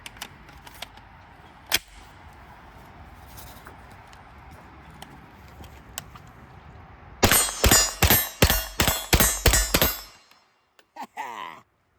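A Beretta PX4 Storm 9mm carbine fires a rapid string of about ten loud, sharp shots close by, after a quiet stretch, followed by a few faint metallic clinks.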